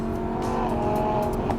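Lamborghini Huracan RWD Spyder engine revving loud and close in a steady, sustained high-revving roar that carries on without a break for the whole moment, with no talk over it.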